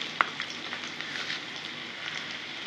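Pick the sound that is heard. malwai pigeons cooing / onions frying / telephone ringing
onions frying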